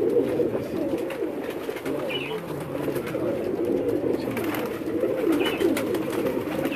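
Pigeons coo low and continuously on a rooftop loft, a steady murmuring bed with someone talking over it now and then.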